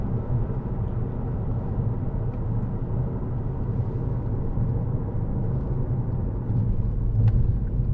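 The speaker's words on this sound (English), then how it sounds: "lovely diesel engine, nice Ford gearbox" Steady low diesel drone and road rumble from a 2012 Ford Kuga 2.0 TDCi with Powershift automatic gearbox while driving, continuous and even from inside the cabin with no talk.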